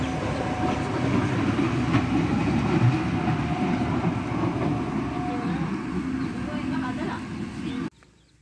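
A train in Sri Lanka rumbles past steadily with rhythmic clacking of wheels on rails, loud and close, then cuts off abruptly near the end.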